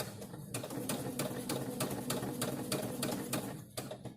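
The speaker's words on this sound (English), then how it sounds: "I'm going to stitch just a straight line following your drawing all the way to the other corner." Sewing machine running a straight line of stitches, a fast, even mechanical clatter of needle strokes, close and steady, pausing briefly near the end.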